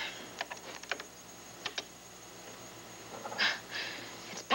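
Light typing on a computer keyboard comes in scattered bursts of soft clicks, close by and fairly quiet, with faint breathing and room noise in between.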